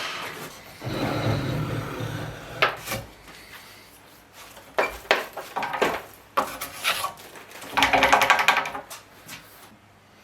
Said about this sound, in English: I'll then take to it with a chisel and clean up all the outside edges.